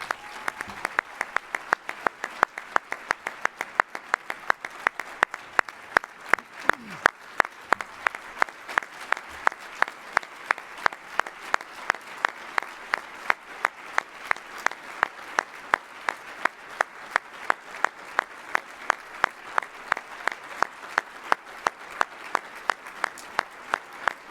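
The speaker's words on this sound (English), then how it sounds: "we owe you a huge, huge round of sincere applause" A large crowd applauds steadily, the dense clapping holding at an even level throughout without letting up.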